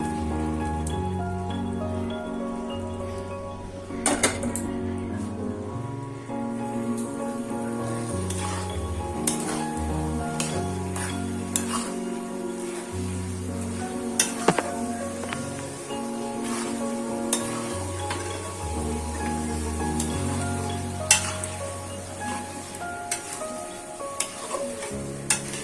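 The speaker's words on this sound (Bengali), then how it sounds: "এবারে দিয়ে দেব এই যে মটনের কিমা আর চর্বি।" Mutton mince and fat sizzling in a pan with chilli powder while being stirred, a steady close crackle punctuated by scraping strokes and occasional sharp clatters of the spoon.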